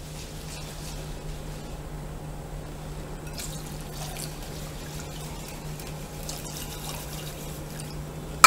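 Water is poured slowly into Karachi halwa mixture and stirred, faint trickling and dripping over a steady low hum, quiet and close, with no voices.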